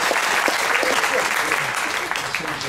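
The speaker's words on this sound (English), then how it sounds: "Firstly, applause for Vicky's cake, everybody" Passengers aboard a cruise ship applaud a cake during a bake-off challenge, steady clapping from a modest crowd with voices mixed in.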